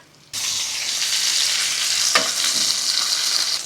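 Thin chicken cutlets for chicken piccata fry loudly in a hot pan, the strong sizzle breaking in suddenly and running continuously, with a brief scrape of a utensil midway.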